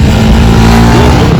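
A loud, continuous engine roar drones close by, rough and throaty, from revving motorcycles at a motorcycle jump show at a vintage rally.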